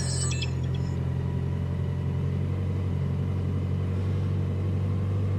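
A 2000 Toyota Camry with a broken rear spring idles after starting, a steady low rumbling engine drone holding even throughout, close by and without talk.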